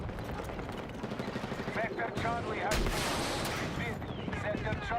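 Thompson submachine gun fire in a Battlefield video game, with rapid bursts of automatic shots and heavy explosive bangs layered loudly over a busy battle soundscape.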